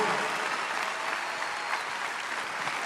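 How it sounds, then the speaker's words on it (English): Audience applause at a stand-up comedy show fills the room, a steady, dense wash of clapping that holds at an even level throughout without any voices on top. "You guys are clapping"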